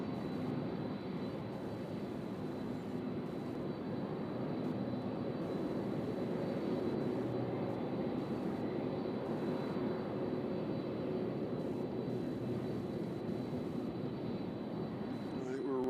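A plane departs on runway 35 left at Louisville's UPS World Port, a steady broad jet roar heard from a distance that holds level throughout.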